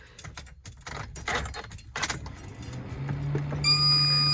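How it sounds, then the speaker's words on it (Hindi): A car key on a Pirates of the Caribbean-themed keychain jangles in close, bright metallic bursts, then a steady hum and a high electronic tone take over near the end. "ये जी हमारी आ गई जी चाबी है पायरेट्स ऑफ द कैरिबियन वाली"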